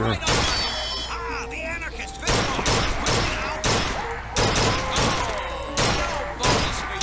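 Gunfire from the video game BioShock Infinite comes in repeated loud bursts of shots with impacts, punctuated by brief gaps, close and dominant throughout.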